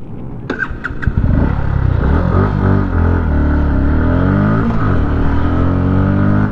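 A Kawasaki Ninja 650 with an aftermarket exhaust starts and revs hard close by, its loud, raspy note rising and falling through several throttle blips.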